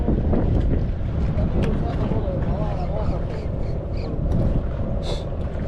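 Strong wind buffets the microphone at a creek fishing spot in Dubai, a loud continuous low rumble with gusts throughout, while someone talks over it.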